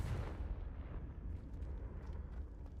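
Fiery Confringo spell blast in Hogwarts Legacy on Nintendo Switch, a sustained rumbling explosion that roars loud and close from the start, then lingers as a dense low boom for a few seconds.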